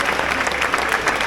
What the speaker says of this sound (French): j'aimerais qu'on applaudisse vraiment tous les bénévoles qui sont mobilisés depuis plusieurs jours pour vous accueillir